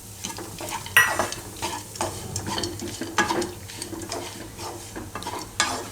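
Moong dal roasts with dry fruits in a pan over a low flame, rhythmic scraping stir strokes over a soft, continuous sizzle, close and moderately loud with no talk.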